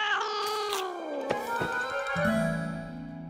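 A cartoon cat lets out a long, loud, wavering meow that slides into a drawn-out caterwaul, close and alone with no talk over it.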